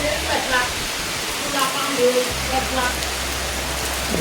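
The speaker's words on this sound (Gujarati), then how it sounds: "વરસાદ ચાલુ થઈ ગયો" Steady rain hisses down in a continuous wash of noise, with a person speaking briefly over it.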